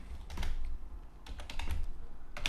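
Typing on a computer keyboard while writing a PHP script, quick irregular bursts of close key clicks alone with short pauses between.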